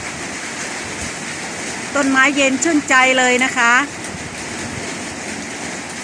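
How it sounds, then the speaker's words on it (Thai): Wind and rain fall on a garden at Ban Suan Thung Salium in Thailand, making a steady, even hiss throughout, while someone speaks briefly over it in the middle. "ทั้งลมทั้งฝนเลยวันนี้"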